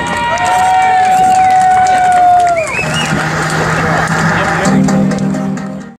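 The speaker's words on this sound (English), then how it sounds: "Make some noise for number 19, Brandy Lee." A loud crowd cheers and makes noise at a Hooters bikini contest in Sanford, Florida, a continuous roar of voices with whistle-like tones running for several seconds.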